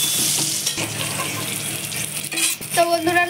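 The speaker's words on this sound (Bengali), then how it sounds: "এখন চিকেন কষার জন্য আমি এখন আলুগুলো ভেজে নেব" Whole small potatoes, lightly slit through the middle, frying in hot oil for Bengali chicken kosha, crackling in a steady close sizzle with a few brief stirring scrapes and clinks of the pan toward the end.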